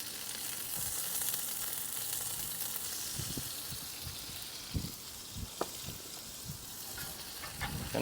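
Chicken seasoned with Korean BBQ rub sizzles and fries in a wok over a Big Green Egg grill, a steady close hiss with occasional scraping stir knocks, no talking.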